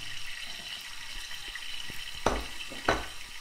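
Low steady sizzle of garlic, pepper and eggplant frying in a pan, with two sharp clinks of a utensil against the pan partway through.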